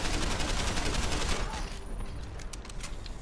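Rapid gunfire in the video game Deus Ex: Human Revolution, a dense, loud burst of continuous shots that eases off into scattered, fainter shots.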